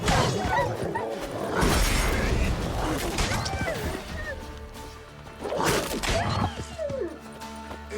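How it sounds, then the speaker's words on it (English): Rabid dogs in The Witcher 3 snarling and barking amid combat whooshes and hits, loud bursts of growls and yelps rising twice over a busy game soundscape, with a voice speaking in between. "We made it, but there's some rabid dogs here."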